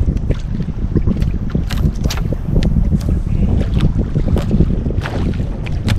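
Steady, blustery wind roars across the microphone outdoors at a fishing spot, constant and loud throughout with gusty buffeting and faint water sounds beneath.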